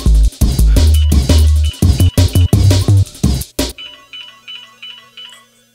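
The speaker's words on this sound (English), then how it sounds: "late night phone ringing" A loud ringtone chirps in rapid repeated bursts, cut into a choppy rhythmic pattern inside a drum and bass production, then fades to a faint echoing tail with no voices.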